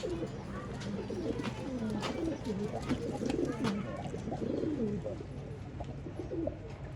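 Pilanka old line pigeons coo steadily in a loft in Bangalore, a dense overlapping chorus of soft throaty calls from several birds nearby.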